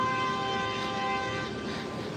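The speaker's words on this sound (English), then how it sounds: "What's with the honking of the horn?" A train horn sounds a steady, sustained blast that fills the whole stretch, loud and close over a hazy city street on New York's Upper West Side, with no talking.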